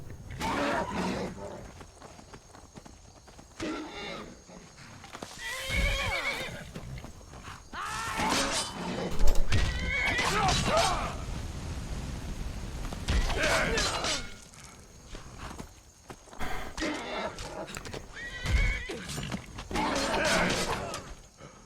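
Horse in the video game Skyrim whinnying and stamping during a fight, with bursts of neighing, hoof thuds and clattering effects spread unevenly over a noisy game soundscape.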